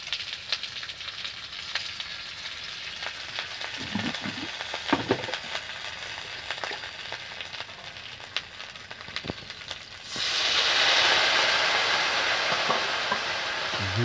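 Ginger paste goes into a hot pan for a Bengali dudh shukto, a steady sizzle and frying hiss that jumps sharply louder partway through, with faint stirring clinks before it.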